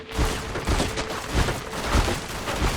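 Tesla cannon firing in Fallout: New Vegas, a run of loud, crackling booming blasts that repeat at an uneven pace across a few seconds, close and dense, with no speech.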